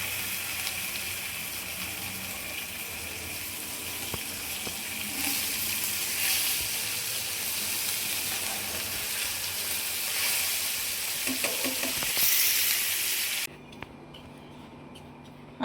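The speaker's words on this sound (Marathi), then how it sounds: "अशा प्रकारे राहिलेले बांगडे आपण फ्राय करून घेऊया" Mackerel (bangda) fish frying in a pan sizzles in a continuous, fairly even hiss close by, ending suddenly into quieter room noise, with nobody talking.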